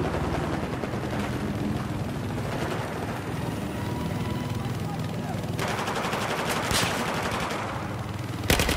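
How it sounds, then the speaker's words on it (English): Machine gun fire in a shooter video game featuring the AUG A3 rifle; dense, continuous automatic bursts fill the whole stretch at steady loudness, with battle noise layered in. "Spotted hostile machine gunner."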